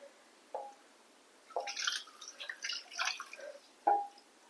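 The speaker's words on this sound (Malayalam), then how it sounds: "ഇതൊന്ന് നമുക്ക് വെള്ളം ഒഴിച്ചിടാം" Water trickles and splashes in a few short, quiet bursts as it is poured over tamarind to soak, with small drips in between, close by and with no voices.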